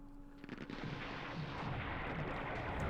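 Artillery fire rumbles in a Campaign Series Vietnam war game at Dien Bien Phu, a dense, steady barrage of booms building and holding loud across the whole stretch with no talk.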